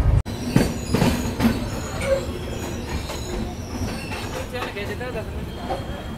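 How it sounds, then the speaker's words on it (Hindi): The Tamil Nadu Express, running late, rolls into Khammam railway station as heard from inside a 3AC coach: a rumbling wheel clatter with metallic squeals and clanks, and a voice speaking over it. "अपने निर्धारित समय से 55 मिनट की देरी से अभी हम लोग पहुंच चुके हैं खम्मम रेलवे स्टेशन।"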